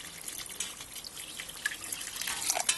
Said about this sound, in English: So I'm just going to pour this in.